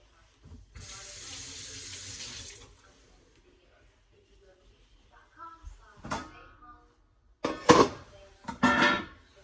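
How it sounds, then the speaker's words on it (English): Kitchen tap running over carrots as they are rinsed, a steady stream of water for a couple of seconds, followed by quieter handling noises and a person talking nearby. "Okay, I'm gonna rinse these off real quick."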